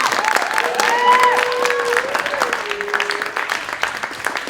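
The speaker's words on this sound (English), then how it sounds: "Can you clap? Yeah, clap ahead." Improv night audience clapping for student performers, a loud, continuous wash of applause with voices and a cheer rising over it throughout.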